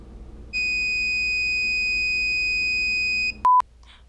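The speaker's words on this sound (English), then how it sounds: "in space, no one can hear you beep." A steady two-tone electronic tone holds for about three seconds, then cuts off, followed by a short, loud, pure beep.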